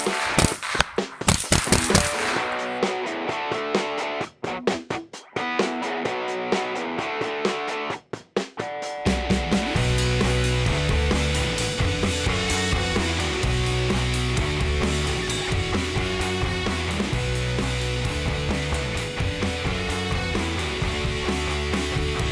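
Rapid sharp gunshots from a Ruger 10/22 Charger .22 pistol fitted with a SIG brace and Nordic Components AR22 chassis, an opening string of close, loud cracks with gaps, then a long stretch of dense, continuous distorted loud noise.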